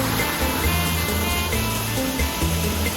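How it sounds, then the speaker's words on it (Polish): Steady broadband rush of a waterfall in Bali near Ubud, heard close up from beneath the falls, a continuous roar with no pauses and no voices. "Jesteśmy pod wodospadem, patrzcie na to."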